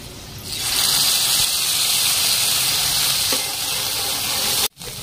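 Butter sizzles steadily in a hot pan, readied for frying pav for pav bhaji, a broad continuous hiss that stays loud and even throughout before a brief dip near the end.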